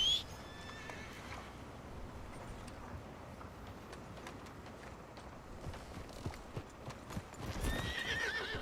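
Hooves of a large horse in Red Dead Redemption 2 clip-clop over soft ground, with a few whinnies and tack creaks; steady and moderately close, growing louder toward the end.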